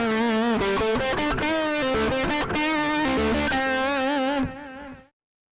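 Harley Benton SC 400 electric guitar played with the bridge tone up full, a series of bright, distorted strummed chords and picked notes ringing out loud and alone, ending in a sudden cutoff.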